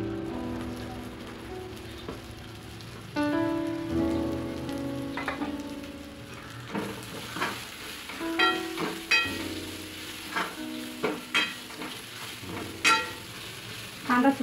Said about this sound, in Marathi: कांदा सुद्धा लालसर होईपर्यंत परतत राहायचं